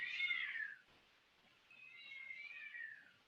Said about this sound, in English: the cat is losing its mind.